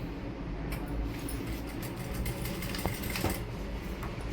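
A sewing machine stitching a seam down the middle of a palazzo, a steady whirring hum that runs close and unbroken, with no talk.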